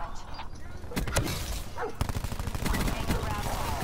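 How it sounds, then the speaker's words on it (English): Rapid VMP submachine gun fire in Black Ops 4 rattles in dense fast bursts through most of the stretch, close and loud, mixed with other game noise. "I love these VMPs. I love them. And they shoot so fast."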